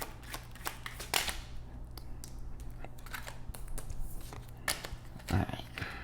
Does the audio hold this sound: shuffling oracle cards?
yes